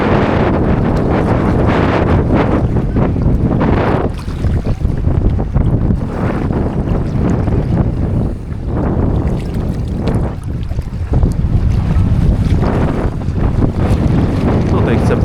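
Strong wind blowing at Elafonisi beach on Crete, a loud continuous buffeting roar across the microphone that gusts and eases throughout.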